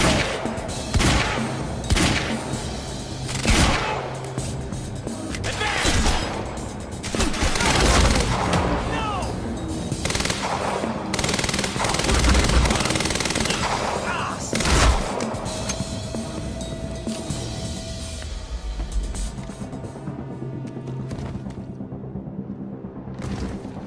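Heavy gunfire from a firefight in the Xbox One game Quantum Break, rapid automatic bursts and booming shots rolling on for about twenty seconds with shouted voices breaking through.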